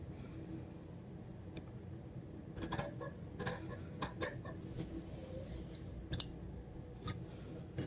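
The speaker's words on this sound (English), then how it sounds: "cut right along the edge here" Scissors cutting fabric trim for a sewn Viking hood make a faint series of irregular snips and crisp clicks over a quiet room hum.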